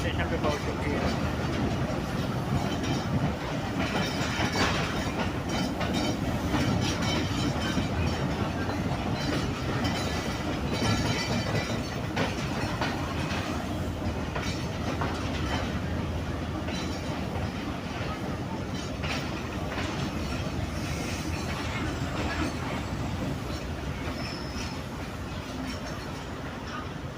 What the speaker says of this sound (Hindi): ट्रेन मलिकवाल जंक्शन रेलवे स्टेशन पे पहुंच चुकी है।